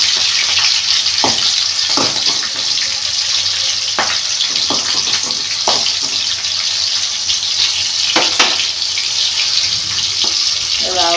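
Green chillies fry in a hot pan with a steady crackling sizzle, broken by occasional louder pops and stirring scrapes close by.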